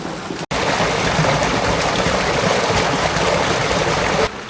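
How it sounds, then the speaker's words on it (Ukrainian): A waterfall near Ivano-Frankivsk in western Ukraine roars as a steady, dense wash of falling water, close and loud, after a brief cut at the start. "але це ж водоспад, правда?"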